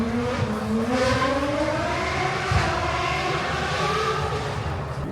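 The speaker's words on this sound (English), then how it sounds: "very loud car that's obviously not electric behind" A loud, non-electric car at the Goodwood Festival of Speed roars steadily with a rising and falling engine note that holds for several seconds in the open air.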